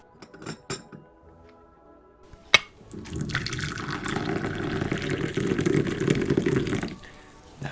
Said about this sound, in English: let me pour you a drink first.